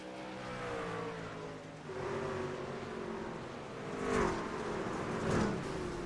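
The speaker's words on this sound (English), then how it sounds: "See trucks right now running all over the speedway." Race trucks roaring around the dirt oval at Eldora Speedway, engines droning at a distance and swelling into two louder revving passes near the end.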